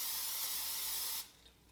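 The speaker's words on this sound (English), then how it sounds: "Give your pan or your pot a good spray of some cooking spray" Cooking spray hisses from a can into a pan in one steady burst just over a second long, close and bright, then stops, leaving quiet room tone.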